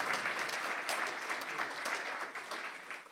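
Audience applause in a hall, steady dense clapping throughout as people welcome a guest.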